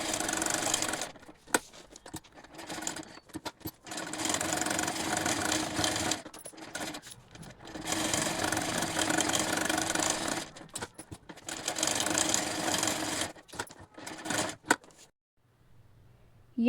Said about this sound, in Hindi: एक बार कच्ची सिलाई यहाँ पे लगा लेते हैं पेपर के ऊपर, कपड़े और पेपर को जोड़ने के लिए।